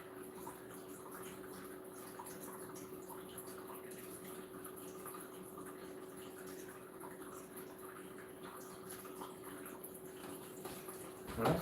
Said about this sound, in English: Liquid screensaver water.